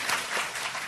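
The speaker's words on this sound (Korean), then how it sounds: "최성진 기자에게도 박수 한번 보내주세요" An audience at a recorded variety show applauds a reporter with a brief, dense wash of clapping that holds steady for the whole second.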